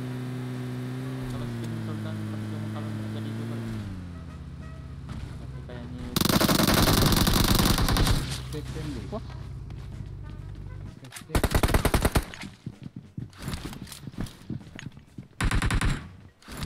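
Gunfire in the mobile battle royale game PUBG Mobile comes in loud bursts of rapid automatic shots after a steady engine drone, with several separate volleys and players talking between them.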